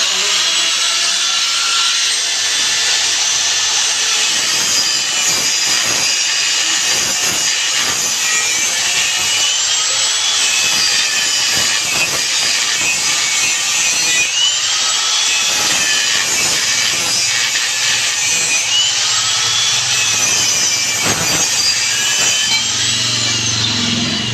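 An angle grinder runs steadily and loudly throughout, a harsh continuous whine with grinding texture that shifts slightly as it bears on the work, with no voices.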